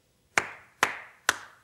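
Three sharp hand claps ring out alone at an even pace, each close and crisp with a short decay.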